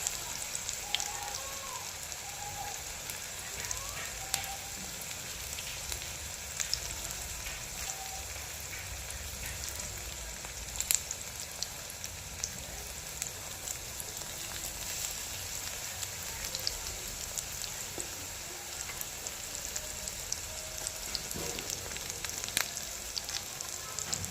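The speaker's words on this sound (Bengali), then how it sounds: "দিয়ে ভেজে নেবে প্রত্যেকটা এভাবে" Drumstick flower fritters (sojne fuler bora) frying in oil, a steady hissing sizzle with fine crackles and occasional pops that holds at an even, moderate level throughout.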